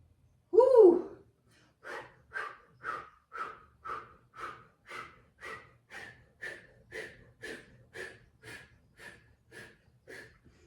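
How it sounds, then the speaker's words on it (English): Rapid breath-of-fire yoga breathing during a Kundalini kriya, done with the tongue out: a loud gasp, then about seventeen sharp, even, rhythmic exhalations, close and clear with no talk. "continue with your breath of fire, with your tongue sticking out"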